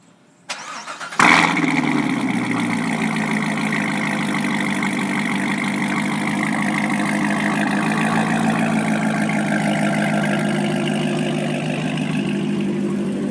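A Corvette Z06 engine cranks and fires with a loud roar, then settles into a steady, rumbling idle that continues close by.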